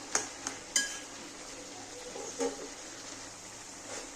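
A spoon stirring bottle gourd in a metal cooking pot gives a few sharp clinks and scrapes over a faint, quiet background.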